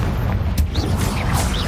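A Confringo fire spell explodes in Hogwarts Legacy. It makes a loud, dense, rumbling blast that fills the whole short moment, with faint whooshing sounds above it.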